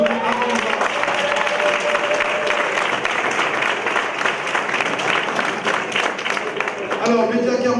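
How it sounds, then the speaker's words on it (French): Audience at a closing plenary session of a conference applauding in a hall, a steady dense wash of clapping from a crowd that holds for several seconds. "On va vous applaudir avant."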